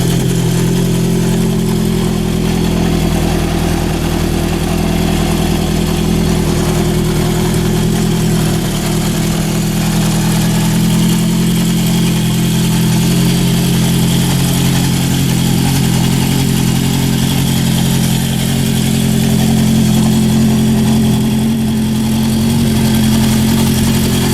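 A 1972 Honda CB750 Four motorcycle idles steadily while warming up, with the idle set around 1,000 rpm. The four-cylinder engine thrums loud and close in an unbroken drone throughout, with no one talking.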